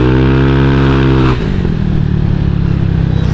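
Motorcycle fitted with custom CVT springs revving hard, a loud rising engine whine for about a second before settling into a rough, steady drone close by.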